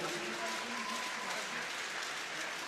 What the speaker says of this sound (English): Merci d'applaudir les 37 nations présentes toute cette semaine sur Strasbourg.